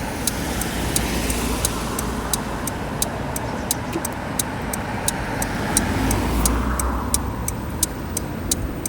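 A car driving through traffic, heard from inside the cabin as a steady low road and engine rumble, with a faint regular ticking running throughout.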